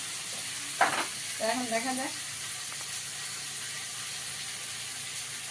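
Leafy greens fry in a pan with salt added, giving a constant soft sizzle throughout, broken by a brief stir and a short vocal sound early on.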